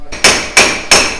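Three sharp metallic hammer strikes, evenly spaced, driving a C clip into a Toyota FJ40 Birfield front axle; loud, close ringing impacts with no talking.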